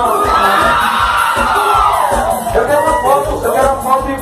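A crowd at a band show cheers and shouts, with children yelling and whoops over a continuous loud roar of voices and music-like tones throughout.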